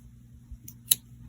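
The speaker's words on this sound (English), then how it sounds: "Now we're going to cut off the yarn" Scissors make a single quick, close snip through crochet yarn, heard faintly over a steady low hum.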